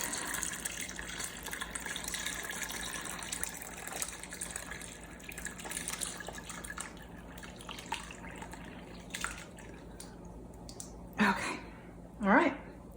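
Beef stock drains through a strainer, giving a steady trickling, dripping pour with a couple of louder splashy gushes near the end while a person talks over it.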